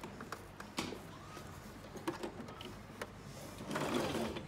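A sewing machine stitches around the edge of reusable sanitary wear fabric with a steady mechanical whir, moderately close, broken by short clicks and a brief louder burst near the end.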